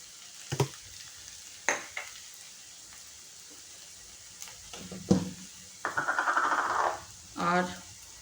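Ginger garlic paste fried with onion and spices in a pan for a green jackfruit curry, with soft sizzling and stirring scrapes in short bursts, including one longer sizzle near the end.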